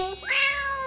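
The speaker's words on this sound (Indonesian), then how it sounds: "Yuk tirukan suaranya. Miau." A single clear cat meow, rising and then falling, close and loud for under a second.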